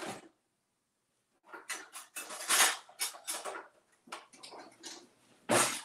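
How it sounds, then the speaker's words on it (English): A spoon stirs dry baking ingredients in a bowl for a strawberry shortcake, making scraping, rustling strokes in short bursts after a quiet pause, close and fairly loud, with no talk. "So we're gonna stir it up."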